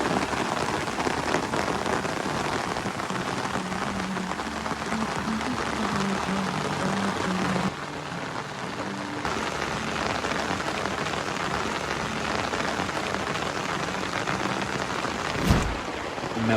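Heavy rain pours steadily outdoors at a mountain campsite on Namunukula, a dense, continuous roar of drops with a brief louder thump near the end.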